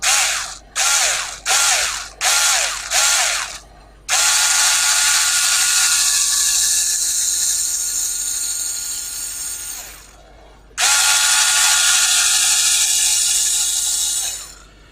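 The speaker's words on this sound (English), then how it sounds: "And then I'll give that a drill" Drill bit boring into a plastic part of a Revell 1:24 London Routemaster bus model kit, several short bursts at first followed by two long, loud continuous whirring runs with a brief stop between them.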